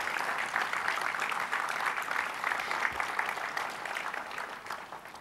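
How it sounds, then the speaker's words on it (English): An audience at an exhibition event in Qatar applauds the exhibition's contributors, steady moderately loud clapping from a sizeable crowd that continues evenly for about five seconds with no talk. "please join me in applauding all of them"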